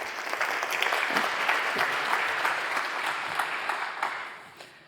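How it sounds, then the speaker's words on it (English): Warm applause welcoming a speaker at the opening session of a Baltic maritime spatial planning forum, a full, steady roar of many hands clapping that tapers off near the end. "Let's have a round of applause."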